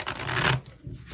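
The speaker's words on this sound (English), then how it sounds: "What a horrible shuffle." A deck of stiff-cardstock tarot cards is shuffled in a single brief riffling burst, close and fairly loud, followed by a softer rustle as the cards settle.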